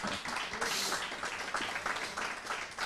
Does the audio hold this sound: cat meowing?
no